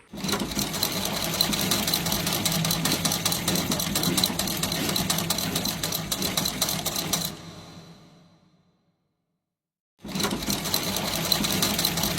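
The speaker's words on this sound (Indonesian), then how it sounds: "Kain itu dijahit oleh Fatmawati dan jadilah bendera merah putih" A sewing machine runs steadily and loud for about seven seconds as the red-and-white flag is stitched, trails off into silence, then starts up again near the end.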